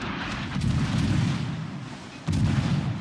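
Naval gunfire from a warship in a video game, deep rumbling booms rolling continuously with a fresh loud blast near the end, close and heavy with no talking.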